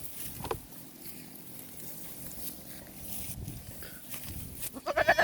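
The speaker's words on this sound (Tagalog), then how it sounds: "Yung kambing." Goats bleat a few times outdoors amid rustling and background noise, with louder calls near the end.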